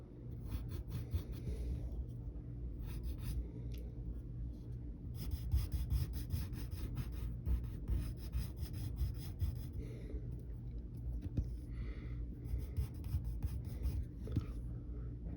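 A pencil scratches and rasps across paper while drawing a cartoon cat's whiskers and mouth, a close, soft, continuous scribbling made of short strokes over a low background hum.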